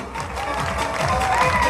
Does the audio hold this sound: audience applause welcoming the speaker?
yes